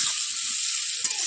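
Chunks of yam and potato sizzle in spiced oil as they are stirred, a continuous bright hiss of frying with a few soft scrapes near the end.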